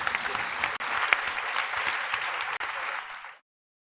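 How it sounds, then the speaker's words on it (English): Audience applause breaks out at a live SimWars final stage event, dense steady clapping from a crowd that holds at full strength for over three seconds, then cuts off abruptly into silence. "Big round of applause"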